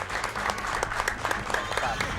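Brief crowd applause during a livestream donation shout-out, a dense patter of clapping that sounds mid-distance and steady for a couple of seconds.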